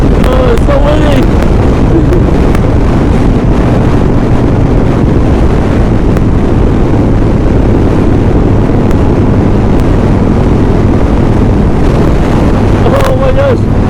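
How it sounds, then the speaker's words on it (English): Major sandstorm gusts batter the microphone for about fourteen seconds on an outdoor ride, a constant heavy roar and rumble with people talking faintly underneath. "Oh my gosh. I'm getting pushed. I'm getting pushed sideways. Wow. This is major wind."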